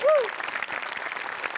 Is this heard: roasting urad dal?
no